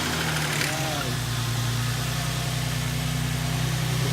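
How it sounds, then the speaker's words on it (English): A Nissan 350Z (Fairlady Z) engine settles into a steady idle just after an oil change, a constant low hum with a brief start-up flutter at the beginning. "make sure you close the cap and start your engine"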